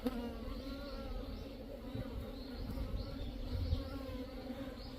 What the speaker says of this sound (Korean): 이놈들은 제가 주워온 토종벌이에요. 토종벌인데 야들도 안정감이 있어요.